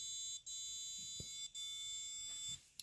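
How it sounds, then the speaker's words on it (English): A buzzer on a water quality tester project sounds in a sustained high electronic tone that cuts off briefly twice, then fades out near the end. It is fairly faint and close, with no talking. "And also the buzzer will also buzz too."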